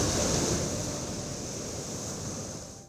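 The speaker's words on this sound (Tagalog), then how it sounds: "Ilang metrong bahagi ng ginagawang Baywalk ang natibag dahil sa malalakas na hampas ng alon." Strong waves pound a seaside baywalk under construction in Dagupan City, a steady loud roar of surf and wind that holds throughout with no clear breaks.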